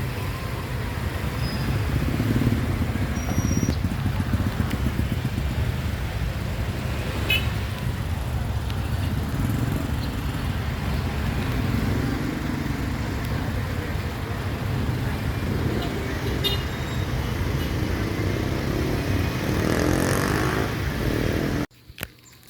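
Busy roadside traffic hums continuously while someone waits for a jeepney, with cars and motorcycles passing and an occasional faint horn toot, steady and fairly loud until it cuts off at the end.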